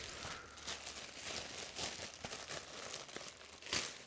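Plastic packaging taped down around a comic being opened, close crinkling, crackling and tearing of plastic and tape in irregular bursts, quiet overall with a sharper rip near the end; no voices.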